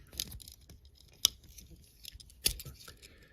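Sharp snips of the small scissors on a knockoff Swiss Army knife cutting, with two crisp louder clips standing out among smaller rustling cuts, close up and with no voices.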